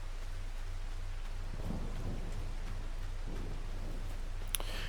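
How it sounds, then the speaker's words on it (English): Rain and thunder in Farming Simulator 25: a steady hiss of heavy rainfall over a low, rolling thunder rumble, continuous and enveloping, with no voices. "Even though it's raining a lot right now"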